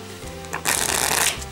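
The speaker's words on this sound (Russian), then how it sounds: "То есть карты и тасуются, и веерятся просто превосходно." Bicycle Archangels playing cards being shuffled, a quick close riffle with a brief crisp flutter of cards lasting under a second, with no talking.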